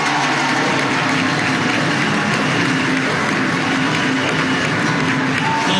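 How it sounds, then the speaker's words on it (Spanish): Crowd at a PSUV political meeting in Aragua breaking into dense, continuous applause, a loud wash of clapping and cheering that fills the whole stretch without pause. "pido para él también un fuerte aplauso"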